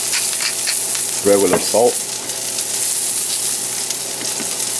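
Dried chili toasting in a hot pan gives a steady, fairly loud sizzle and crackle throughout. A brief spoken phrase cuts in near the middle.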